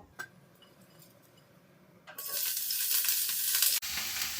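Cut cauliflower dropped into hot oil in a wok, bursting into a loud bright sizzle that holds steady and briefly dips toward the end, after a quiet lead-in with a few light clicks.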